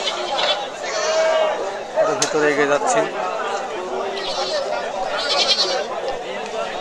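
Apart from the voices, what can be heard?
native breed goats bleating at a goat market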